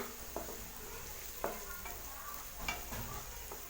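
Onions sauté in a pan for egg bhurji, a soft sizzle under several distinct scraping strokes of a spatula stirring, close and fairly quiet.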